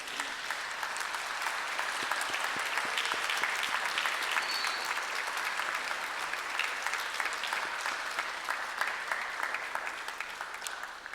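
Graduates at a university graduation ceremony giving a sustained round of applause, a broad, even wash of many hands clapping in a large hall that fades slightly toward the end.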